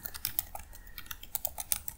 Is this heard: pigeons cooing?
no